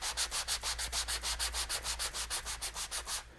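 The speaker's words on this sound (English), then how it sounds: "you want to take some kind of sandpaper and you want to get it to an even finish that you want" Sandpaper rubbed by hand over a gesso-primed surface, about twenty steady back-and-forth strokes in an even rhythm, close and clear with no talking.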